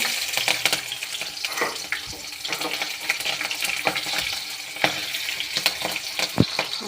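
Mustard seeds and green chillies fry in hot oil, giving a steady, close sizzle dotted with crackles and small pops.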